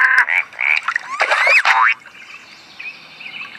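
A voice imitates a frog's croaking with a rapid series of loud, bouncy croaks and boing-like glides, then fades to quiet ambience in an animated children's show.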